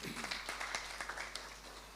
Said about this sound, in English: Can we have a round of applause for her, please?